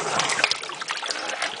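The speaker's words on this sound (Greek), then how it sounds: "Έχουμε γεμίσει μια λεκάνη με κρύο και άφθονο νερό και θα ρίξουμε μέσα τις μελιτζάνες για να τις ξεπλύνουμε" Whole eggplants splash into a basin filled with plenty of cold water for rinsing, giving a brief run of close, bright splashing and trickling water with no talk.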